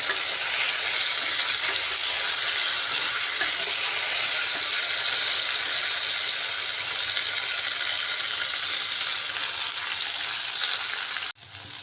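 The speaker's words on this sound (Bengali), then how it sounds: "তেল গরম হয়ে গেছে পটল দিয়ে দিচ্ছি সব পটলগুলোই একসাথে ভেজে নিচ্ছি" Pointed gourd crackles and sizzles loudly in hot oil, a dense, unbroken frying hiss that briefly drops out near the end.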